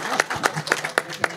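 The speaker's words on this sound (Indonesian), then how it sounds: "Semangat, tepuk tangan." A small audience at a casual talk session claps briefly, a handful of sharp, separate claps at an irregular rhythm over a background of murmuring voices.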